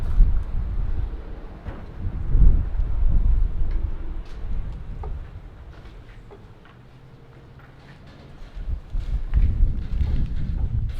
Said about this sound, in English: it is extremely windy. That wind just gusted and stuff went flying everywhere.